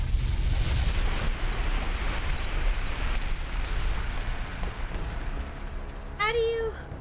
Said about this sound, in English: Grenade! Run! Get out the way!